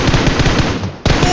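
Rapid, loud, continuous automatic gunfire from a shooting video game, dense bursts filling the whole moment with a brief break near the end before firing resumes.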